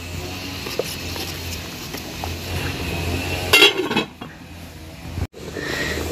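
Rice being stirred and a lid set on a saucepan of boiling water, soft metallic scraping and clinking up close, then a brief louder clank of the cover, over low background hiss with no talking.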